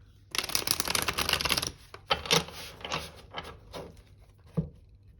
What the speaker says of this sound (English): So we'll just do one final shuffle.